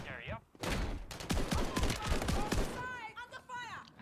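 Rapid shotgun and gunfire bursts from a video game crack close and loud in a dense flurry. Excited voices come briefly before and after the shots.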